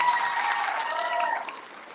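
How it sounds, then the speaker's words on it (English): Applause from a crowd at a junior high graduation ceremony, steady dense clapping that holds for two seconds and thins slightly toward the end, heard at moderate distance. "Please give your parents a round of applause."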